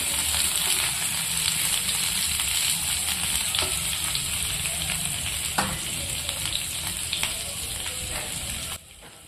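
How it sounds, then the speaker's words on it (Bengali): Small peeled potatoes for aloo dum fry in hot oil, giving a dense, steady sizzle close by with scattered spatula scrapes and taps as they are stirred, ending abruptly. "সেগুলো একটু ভেজে নেব পরে একটু নাড়াচাড়া করে নেব"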